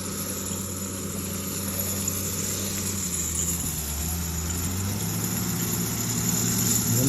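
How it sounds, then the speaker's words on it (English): A tractor engine rumbles steadily nearby on a street in Crestline, a mountain town, a low droning idle with constant vibration and no pauses. "Well, there's a tractor coming."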